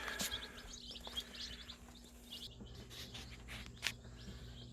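Small Leghorn and Americana chicks peep in quick, thin chirps scattered over a faint steady hum, a few sharper calls standing out, indoors near an incubator.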